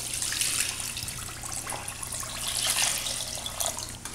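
Water splashes steadily into a pot while a jackfruit sweet is being prepared, a close, continuous pouring sound that rises and falls slightly, with no voices.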